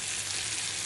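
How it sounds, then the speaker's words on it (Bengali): Prawns sizzling in a pan for a Bengali chingri curry with jackfruit seeds, a steady close hiss of frying oil with no talking. "চিংড়ি মাছগুলো দিয়ে দিচ্ছি, কষিয়ে"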